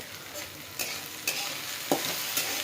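Okra cooking with onion and tomato in a pan over a medium flame, a soft continuous sizzle broken by a few sharp scrapes and clicks of stirring.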